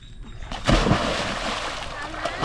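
A child jumps into a village water tank, making a close, loud splash followed by sloshing water, with voices talking over it.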